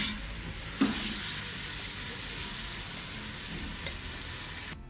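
Carrot, capsicum and cabbage stir-fry in a pan with a steady, close sizzle and hiss that holds for about five seconds, broken by a couple of sharp spatula knocks before cutting off.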